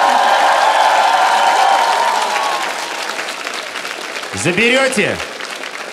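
Studio audience applause fills a Ukrainian comedy talent show set, dense and steady at first, then thinning and fading while a voice speaks briefly near the end.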